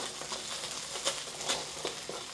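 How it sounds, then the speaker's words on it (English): Garlic frying in a tablespoon of oil over low heat in a pan for a beef and broccoli stir fry, a quiet, continuous sizzle with soft crackles and a few brief stirring scrapes. "And then we're going to get our garlic going"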